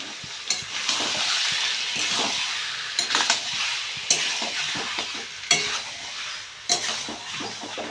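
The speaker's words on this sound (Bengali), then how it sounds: "এবার মাংসটাকে ভালো করে কষাতে হবে।" Chicken meat sautéed in a pan for a spicy curry, with a steady loud sizzle and repeated scraping stirs of a utensil against the pan, with no talking.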